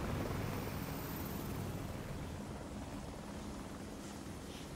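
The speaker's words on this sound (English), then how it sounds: "Definitely a Russian helicopter." A Russian helicopter in the video game Call of Duty Black Ops 6 makes a steady, low rotor drone and broad rumble, fairly faint and constant throughout.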